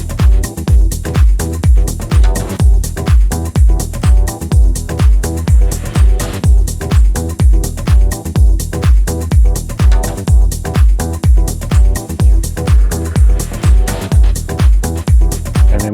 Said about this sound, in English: So it's this really cool slap bass kind of sound